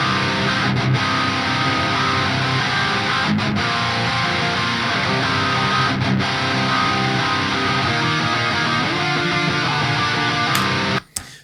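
Loud distorted rock guitars play a chord progression with richer, shifting harmonies, sustained and dense, ending abruptly.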